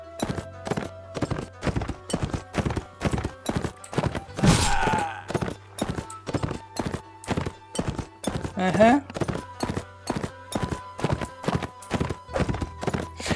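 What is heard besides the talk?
horse galloping in video game Mount and Blade Warband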